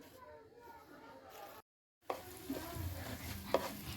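Cumin, coriander and ajwain seeds roast in a hot pan, soft crackling and sizzling with a few stirring scrapes; a short silence breaks the sound, and faint voice is heard beneath.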